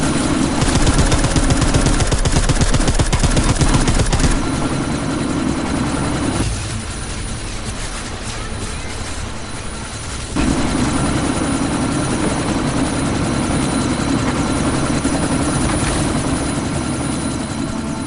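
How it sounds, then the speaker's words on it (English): A helicopter in the Deus Ex Mankind Divided video game thunders loudly and continuously with fast rotor chopping, joined by rattling bursts resembling gunfire, the roar dipping midway before surging back, with no talking. "Strike Force, tombstone that fucking chopper"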